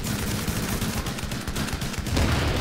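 Rapid gunfire from the video game The Division during a group PvP fight, dense overlapping bursts and automatic fire that run continuously and loudly, swelling near the end, with no talk.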